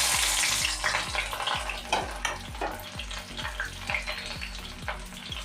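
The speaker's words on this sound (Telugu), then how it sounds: "ఇట్లా సన్న పొడిగా తరిగి పెట్టుకొని వేయించుకుంటున్నాను." Thinly sliced onions frying in hot oil, a loud continuous sizzle with a regular rhythmic scrape of stirring, close up and with no voices.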